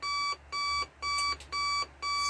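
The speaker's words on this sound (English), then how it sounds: "And there's it, an alarm." Sony ICF-C111 clock radio alarm sounding through its speaker: five evenly spaced electronic beep bursts, each about a third of a second, steady rhythm and moderately loud, close by with no talking.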